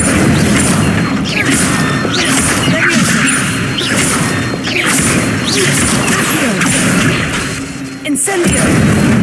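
Incendio fire spell cast in the Hogwarts Legacy video game, with repeated whooshing bursts and crackling impacts over a dense, loud game soundscape that stays busy throughout.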